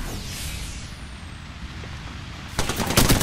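A short, loud burst of gunfire from the shooter game Apex Legends breaks in near the end, after a stretch of steady, hissing background noise.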